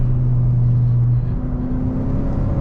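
Hyundai Sonata N Line engine pulls hard under acceleration with paddle-shifted gears, a loud, steady in-cabin drone whose tone shifts partway through as a gear changes.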